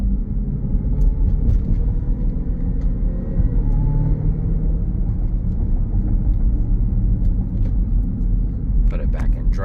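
Steady, loud engine and exhaust rumble from a 2020 Jeep Grand Cherokee Trackhawk while driving, with a constant low drone throughout and faint clicks near the end, heard from inside the car.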